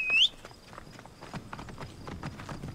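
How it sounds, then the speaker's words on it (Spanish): In Assassin's Creed Origins, a horse's hooves clip-clop in a steady walking rhythm, faint and close, after a brief bright chime at the start. "En caballo, porque Aya tiene su propio caballo"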